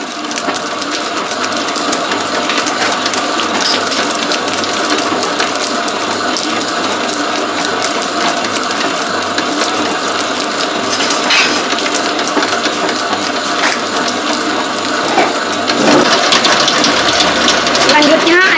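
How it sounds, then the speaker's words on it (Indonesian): A dough mixer kneads potato donut dough in a loud, continuous mechanical grind with a rattling, ratchet-like churn, growing a little harsher near the end. "mesinnya saya nyalakan, dinyalakan dulu mesinnya ya"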